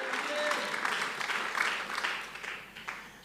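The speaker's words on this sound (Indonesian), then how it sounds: "Beri tepuk tangan bagi kasih Tuhan yang besar" A church congregation claps in a fairly steady wave of applause, with a few louder surges, under faint voices, for about three seconds.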